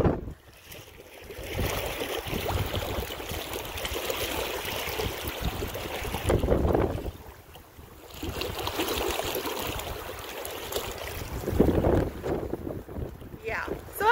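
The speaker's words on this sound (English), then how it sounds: "The wind is horrible." Strong wind gusting across a lake while paddling a canoe, buffeting the microphone in rushing surges with faint water lapping beneath, loud and continuous with brief lulls.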